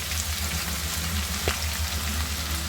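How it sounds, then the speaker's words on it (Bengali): Onions fry in a pan for a chicken and potato curry, giving a steady, close sizzle that runs the whole time, with one small click in the middle. "এখন আমি পেঁয়াজগুলো ভেজে নেব।"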